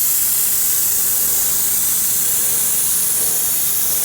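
Sustained, close hiss of a low-pressure sprayer misting 3D Ultra Protectant water-based dressing onto a vehicle's tires, a steady, loud airy spray with no pauses or voices.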